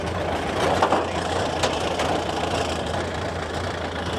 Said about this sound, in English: There's a little Model A for you.